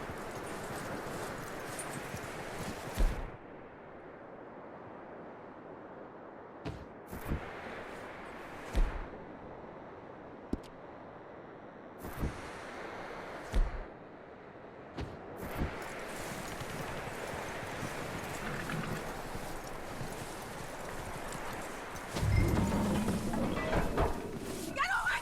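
Horse hooves clip-clop in Red Dead Redemption 2, a steady walking rhythm of soft thuds running through the whole stretch, with louder knocks and bumps breaking in at times and voices talking over it.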